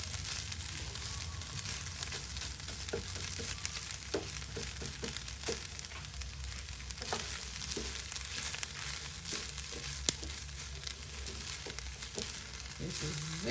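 Eggs sizzle steadily in a hot pan for egg fried rice, a dense, even frying hiss with scattered clinks and scrapes of stirring throughout, close up and with no voices.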